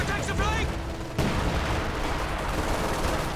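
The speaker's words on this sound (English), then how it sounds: "ISU 152 firing." An ISU-152 self-propelled gun in a video game fires one heavy, booming shot about a second in, with a long rumbling tail, following a short burst of earlier gunfire and a brief voice.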